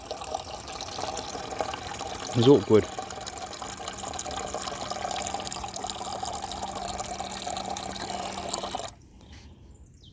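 Water from a heavy water bottle pours steadily at a bankside fishing spot, a continuous splashing trickle lasting several seconds before cutting off abruptly, with a short spoken phrase early on.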